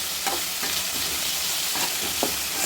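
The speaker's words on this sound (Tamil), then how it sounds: "பிரண்டை போட்டு நல்லா மிக்ஸ் பண்ணி விட்டுக்கலாம். இந்த பிரண்டை வந்து நல்லா எண்ணெயிலே சுருண்டு வரணும்." Pirandai (adamant creeper) frying in oil in a pan while being stirred, a steady close sizzle with several soft scraping strokes of a spoon breaking through.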